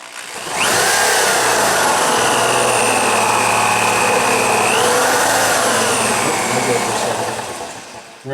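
A cordless chuckless electric drill whirs steadily and loudly for about seven seconds, starting and stopping abruptly, with a rising whine, while boring into wood for a wall-mounted pool cue rack.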